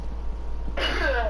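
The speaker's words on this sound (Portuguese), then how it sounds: "Acho que foi tosse" A single sharp cough bursts out after a quiet stretch of low background hum, close and fairly loud.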